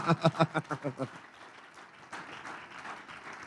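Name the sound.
audience applauding loudly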